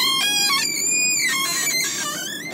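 A high, tonal squeak with shifting pitch rises and falls for a couple of seconds as the rubber seal rubs on an Audi TT convertible's power window sliding, fairly close with no talking.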